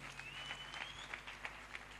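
A church congregation claps and cheers through the whole stretch, a broad, steady wash of handclaps and crowd noise with a few sharper peaks, heard at a distance and fairly faint.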